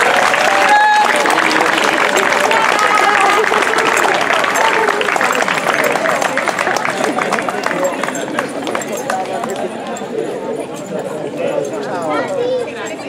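Lively applause and crowd chatter at an outdoor ambulance inauguration, honoring a volunteer dog unit's parade, with shuffling footsteps and moving bodies underneath; loud at first, then gradually thinning.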